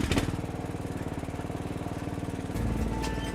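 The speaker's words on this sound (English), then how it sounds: "Let's go over here and mow a little bit of grass." A lawn mower runs close by in a front garden, its engine chugging in a fast, steady pulse that shifts and deepens near the end as it mows grass, no voices.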